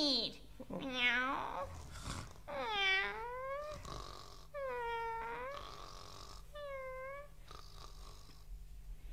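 Drawn-out meows from a cat sound about five times in a children's Christmas story of the ugly duckling, each a rising and falling wail with pauses between, against a faint low hum.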